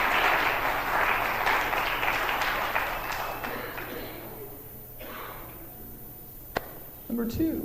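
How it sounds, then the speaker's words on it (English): An audience at a church fundraiser show claps loudly for a few seconds. The applause then fades into scattered claps and murmuring, with a sharp tap near the end. "Give them a round of applause, everybody."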